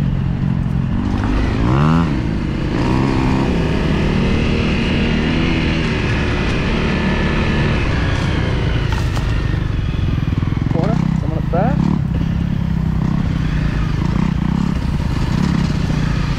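A dual sport motorcycle rides off-road along sandy trails, its engine droning loud and close throughout with rising and falling revs, rattling and wind noise.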